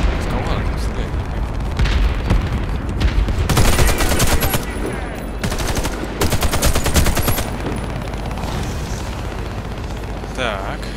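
Gunfire in the Warface video game: dense automatic bursts and rattling volleys over continuous combat noise, with a voice speaking at times.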